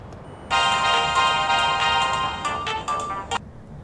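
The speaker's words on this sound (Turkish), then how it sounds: "Açın şu telefonu." A phone ringing loudly and nearby, a bright electronic ringtone that starts abruptly and plays continuously for about three seconds before cutting off, with no talk over it.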